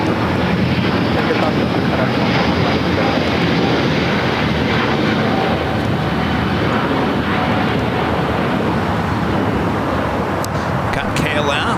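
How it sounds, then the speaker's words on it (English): An Air France Airbus A350 takes off from the south side runways at LAX, a loud, sustained jet roar with wind buffeting that holds steady throughout, heard outdoors with a voice talking over it. "That's the Air France A350 heading back to Paris,"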